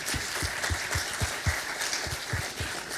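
A short burst of scattered clapping from a small group at the close of a QGIS seminar, the individual claps distinct and fairly close, with no voices over it.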